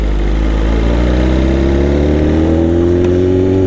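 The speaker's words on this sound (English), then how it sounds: "He says my bike sounds clean." BMW S1000RR sport bike fitted with an SC Project slip-on exhaust, its engine running steadily up close with a deep, loud droning tone that gradually rises in pitch over a few seconds.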